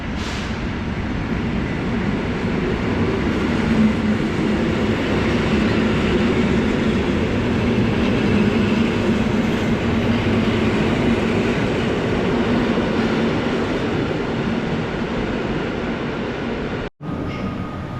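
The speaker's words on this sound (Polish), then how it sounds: "odprawiła skład charakterystyczny dźwięk i kibelek rusza" An EN57 electric multiple unit departing Kraków Główny station as a loud, continuous rumbling roar of rail wheels and motors close by, steady for most of the stretch before a sudden brief cut near the end.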